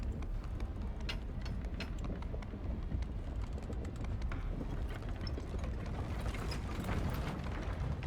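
Horse hooves pound in the medieval battle game Mount & Blade 2: Bannerlord, a dense rumble of clip-clopping steps mixed with wind and mechanical battlefield noise, loud and continuous.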